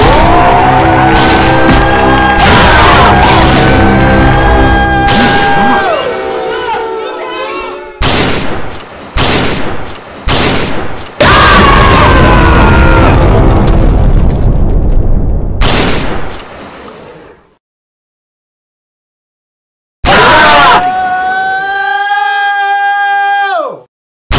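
Video game gunfire and explosions come in loud, dense bursts that stop and start abruptly, with a long silent gap. A tonal, wavering sound rings out at the end.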